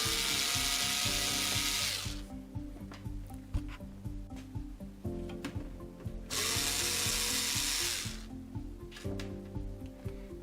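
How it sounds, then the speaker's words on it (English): Removing the little feet from a Drobo 5N NAS enclosure with a power driver: two long, loud whirring bursts separated by quieter clicking and ratcheting handling noises, with no one talking. "I'm going to do the same thing, which is to remove these little feet"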